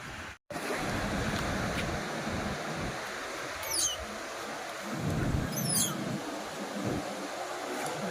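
Arabian Sea surf washes onto the shore in a steady broad roar, with swells rising and falling every couple of seconds and no voices over it.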